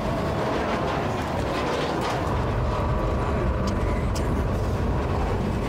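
A train in the video game INDIKA rumbles steadily and loudly throughout, with a dense continuous roar and a few faint metallic clanks, and no speech over it.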